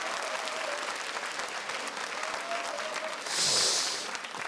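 Audience applause at a lecture hall talk, an even wash of clapping from a seated crowd, with a brief louder hiss-like swell near the end.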